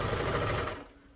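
A sewing machine stitches a face mask, giving a short fast mechanical whirr that fades out after under a second.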